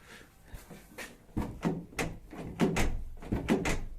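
A Honda HR-V car door closing, heard as a series of close thuds and latch knocks repeated several times in a rough rhythm, with no speech.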